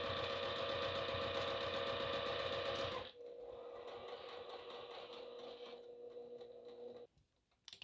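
Sewing machine back stitching webbing on a duffel bag, a fast steady mechanical whir that stops, then a quieter run of stitches before a brief pause and clatter.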